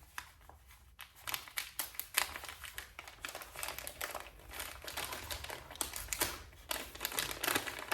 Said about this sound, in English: sorry for the paper sound.